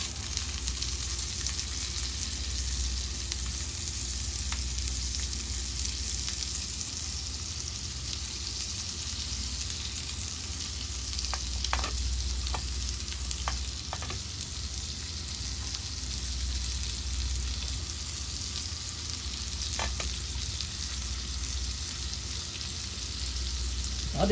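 Scallops sear in a pan of foamed butter on turned-down heat, giving a steady, close sizzle with faint crackles and a few sharp pops, without any talking.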